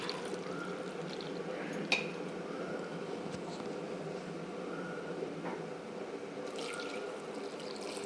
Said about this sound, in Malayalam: ഇനി അതിലേക്ക് പാകത്തിന് വെള്ളം ഒഴിച്ചു കൊടുക്കാം.